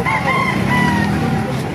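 Gamefowl roosters crow repeatedly at a busy poultry market in Baliuag, their strained, overlapping calls ringing out nearby over a steady background murmur of the crowd.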